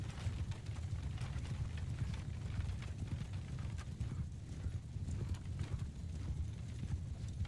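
Cavalry horses gallop in a strategy video game, a dense, steady drumming of many hooves that runs throughout at moderate, even loudness.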